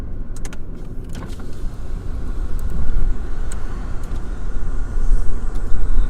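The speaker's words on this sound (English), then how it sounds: "I'm gonna roll the windows down and we're gonna do a sound test with that" Car interior with the power windows rolling down: a steady low rumble of a moving car, a few faint clicks and whirs early on, and the road noise growing louder as the windows open.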